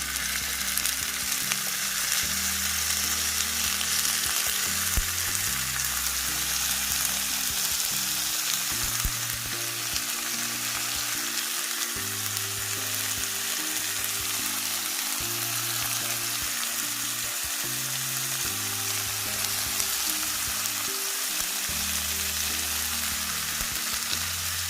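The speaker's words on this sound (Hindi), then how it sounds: "ये इस तरह से मैंने हल्का सा बटर कर लिया है और मैं इसके अंदर इसको फ्राई करती हूँ" Thin slices of doner kebab meat frying in butter in a pan keep up a steady, close crackling sizzle for the full duration, with no talking over it.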